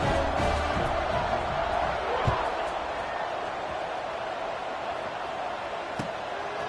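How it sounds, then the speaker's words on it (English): Steady stadium crowd buzz in a college football video game, Colorado Buffaloes against Arizona State, a dense broadband roar holding for several seconds after a score, with a thud near the middle and a sharp tap late, under commentary. "this crowd is buzzing after that last score"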